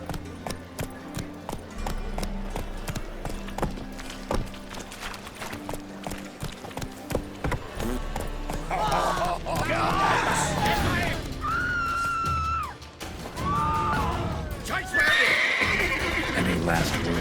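Roach, the horse in The Witcher 3, gallops with rhythmic hoofbeats, then lets out loud, drawn-out whinnies in the second half, under game music and ambience.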